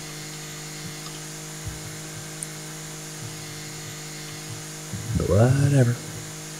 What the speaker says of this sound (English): This is a very slow way of mowing the lawn.